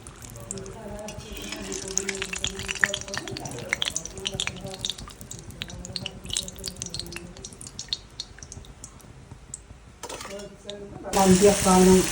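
Bajji fritters fry in oil in a pan, sizzling and crackling amid clinking utensils and dripping, with voices nearby; the hiss surges loudly near the end.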